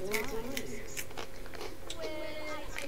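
Crunchy snacks being chewed close to the mic, with sharp irregular crunches scattered through, heard under a game's background music and sounds.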